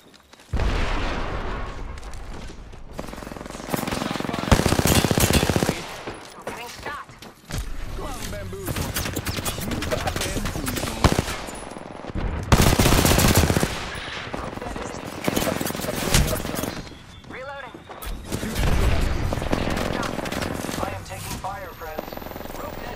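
Rapid automatic gunfire and bursts in the battle royale game Apex Legends, loud and dense with shots stacking over each other, interrupted by short lulls, while a player talks over the action.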